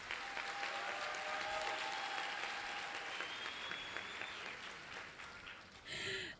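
A college graduation audience applauds management assistant graduates in a broad, sustained wash of clapping that gradually fades, with faint tones and a brief burst of noise near the end.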